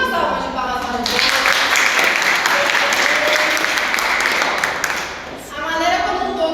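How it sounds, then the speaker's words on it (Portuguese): Applause from a seminar audience, a loud burst of clapping that starts after a second of talk and runs for about four seconds before fading, with a voice speaking again at the end. "uma salva de palmas para vocês"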